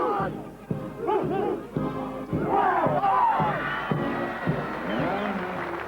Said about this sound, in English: Good crowd assembling here at Cougar Park.